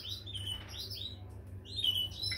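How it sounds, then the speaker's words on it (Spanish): Small birds chirp in quick high tweets, a cluster early on and another near the end, close and fairly clear over a low steady hum. "Aquí hay cuatro pájaros."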